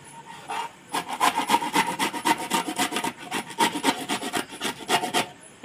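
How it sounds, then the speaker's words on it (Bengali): Bitter gourd is rubbed up and down a hand grater in quick rasping strokes, short scraping bursts in a loose rhythm, close up with no talking. "দেখুন প্রথমে একটা ঘষুনি নিয়েছি, একটু ঘষে নেব।"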